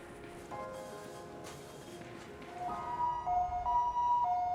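An ambulance siren wails in the distance, arriving at a hospital emergency department, its tone rising and sweeping under a steady background hum, growing louder toward the end.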